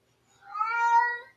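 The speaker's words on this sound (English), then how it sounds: "Oh, that's a cat." A single cat meow, a clear drawn-out tonal call rising and then fading, close and distinct against a silent background.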